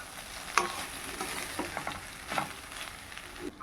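Green gram rice tossed with pepper masala in a pan on low flame, stirred with a spoon in a few scraping strokes with a soft sizzle underneath, close and fairly quiet.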